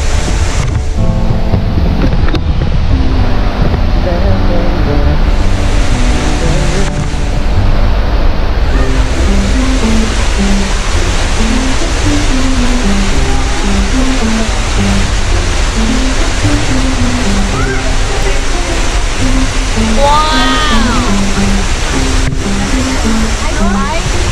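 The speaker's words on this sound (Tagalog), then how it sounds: "the second falls of Lake Cebu" Loud, constant roar of the second falls of Lake Sebu, a dense rushing wash of water heard close by with wind buffeting the microphone and a voice speaking over it.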